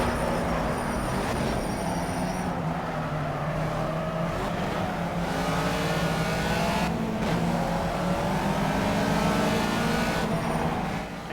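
Race car engine in the Project CARS racing game, a continuous loud drone that rises and falls steadily through gear changes during a late lap, with no talking over it.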